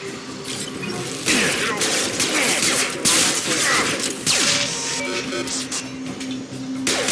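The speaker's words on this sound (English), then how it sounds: "Taking heavy fire!" Gunfire from the video game Mass Effect 2 fires in rapid bursts and sharp cracks over a busy backdrop of game effects and mechanical sounds, with some character dialogue.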